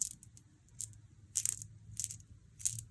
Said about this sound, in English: That is the sound of glass beads.